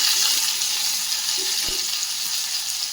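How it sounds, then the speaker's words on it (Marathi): Finely chopped onion sautéing in a pan for methi sabzi, a loud, even sizzle throughout with one faint clink of a spoon. "कांदासुद्धा छान लाबीसर रंगावरती आपल्याला परतून घ्यायचा आहे"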